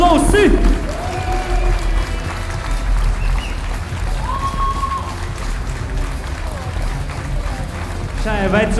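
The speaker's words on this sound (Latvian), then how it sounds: "Aplausi!" Audience at a youth league title fight bout breaks into applause and crowd noise, a steady, dense wash of clapping and voices filling the hall for several seconds.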